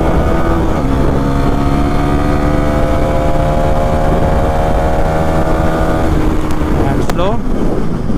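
A Bajaj Pulsar NS400Z motorcycle accelerates, its engine a loud, close, continuous drone climbing steadily in pitch through the revs before easing off near the end, with no talking.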